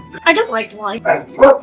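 A dog barks in a few quick yappy bursts close by at home, mixed with a person talking over it.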